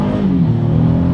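A 2022 Honda Passport SUV launches hard in first gear, its engine giving a loud, close rising growl that climbs steadily in pitch over a brief moment.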